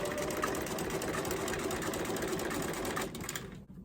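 A sewing machine stitches through a quilt at close range, running in a steady, fast mechanical whir for about three seconds before slowing and stopping, with no talk.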